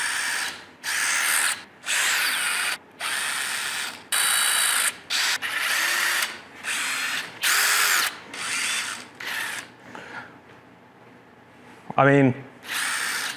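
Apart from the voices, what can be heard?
power tools in use, drilling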